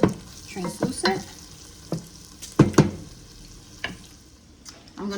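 Diced vegetables for clam chowder cook in a pan with a steady low sizzle under several sharp scrapes and clinks of a spoon stirring, close and fairly loud.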